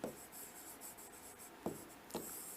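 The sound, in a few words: writing on paper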